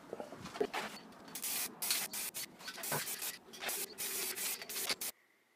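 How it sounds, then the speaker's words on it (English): An aerosol spray can hisses in a series of short and longer bursts with brief gaps between them, close and fairly loud, and the final burst cuts off into near silence. "Time to spray shit on things."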